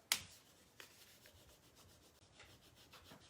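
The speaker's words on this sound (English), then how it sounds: "Just burnish it with our burnishing tool." Burnishing tool rubs a rub-on transfer down onto a stenciled craft project, giving quiet, close scraping strokes after a sharp initial tap.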